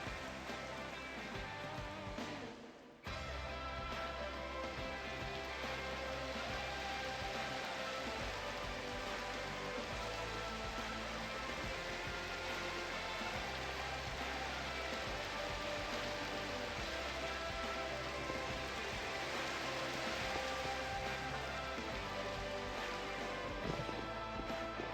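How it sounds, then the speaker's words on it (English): Rain falls in the survival video game GENERATIONS: Gen V Survival, a steady, soft patter and hiss that continues after a brief break near the start, with no voices. "Let's sleep off this rain, shall we?"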